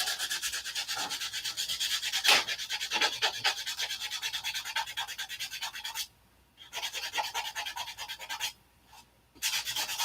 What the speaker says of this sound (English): I'm going to have to sand CA off my fingers.